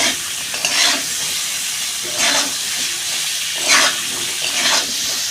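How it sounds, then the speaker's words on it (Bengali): Potatoes for a rohu fish curry fry in hot oil in a pan, giving a steady close sizzle and hiss broken by several scraping stirs at regular intervals. "আলুটা ভেজে নেব"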